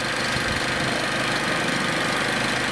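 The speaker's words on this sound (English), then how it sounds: "it's got the 2-liter Duratec engine in it" A 2-liter 16-valve Duratec engine idles in a Mazda MX5, a close, steady and loud running drone with a faint rapid ticking beneath it and no voices.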